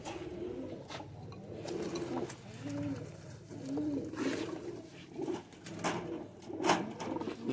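Pigeons, including a striped-pattern female kept for breeding, coo repeatedly in soft rolling phrases, several birds overlapping at close range amid faint rustling and scattered background noise.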